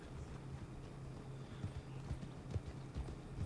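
Horse hooves clip-clopping in the Red Dead game, a steady rhythmic trot of muffled thuds on dirt, moderately close and fairly quiet, with no talk.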